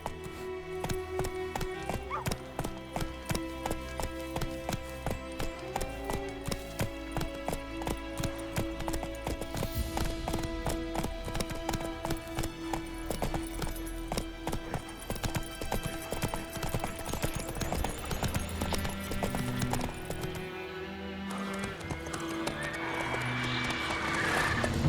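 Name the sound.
horse galloping in video game The Witcher 3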